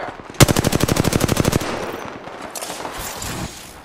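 A rapid burst of about fifteen automatic gunshots in the video game Apex Legends, loud and close, followed by scattered quieter shots and effects.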